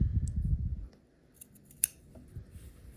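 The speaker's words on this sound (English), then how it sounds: "We're going to trim this away" Scissors trim the fabric overhang from a quilt block: a few crisp, close snips and small cutting clicks after a brief rustle, one sharp cut standing out, with no voices.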